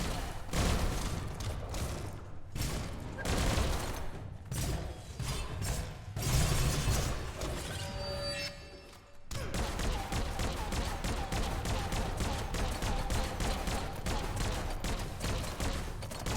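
Gunfire in the video game Biomutant, repeated clattering shots and mechanical impacts over a busy, dense game soundtrack, fairly loud and continuous throughout.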